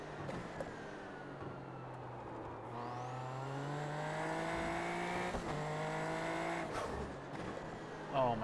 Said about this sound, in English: Hearing that turbo blowback sounds so good.